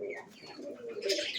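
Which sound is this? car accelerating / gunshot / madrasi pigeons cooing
madrasi pigeons cooing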